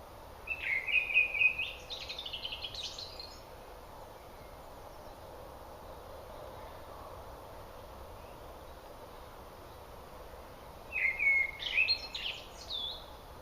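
A blackbird sings in short bursts of warbling phrases, clear and fairly close, first at the start and again near the end, with steady outdoor background noise between, in a field between two areas of woodland.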